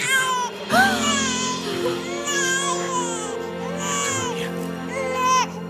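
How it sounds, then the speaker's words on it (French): A baby cries inside a car after it crashed into a tree, with loud, close wails rising and falling in repeated bursts over a steady low hum. "Il y a un bébé dans la voiture."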